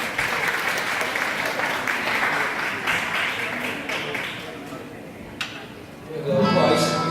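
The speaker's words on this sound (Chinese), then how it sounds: "掌声欢迎。" An audience claps and cheers steadily to welcome performers on stage, a dense sustained applause that fades toward the end before a voice speaks over it.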